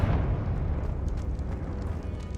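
A Confringo spell explosion in Hogwarts Legacy: a deep, rumbling blast that hits at once and trails into a dense, crackling roar lasting a couple of seconds.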